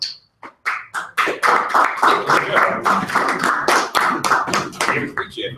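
A small group of people clap together at a tech club meeting, a dense burst of applause lasting several seconds, close and fairly loud.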